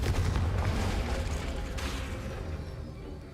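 A Confringo fire spell blast in Hogwarts Legacy, a rumbling, booming burst with a crackling tail that fades gradually over a few seconds.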